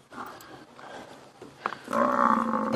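Lions attacking a buffalo on an African safari drive, with deep roars and grunts that build from a low rumble to loud, sustained, close roaring in the last second of the clip.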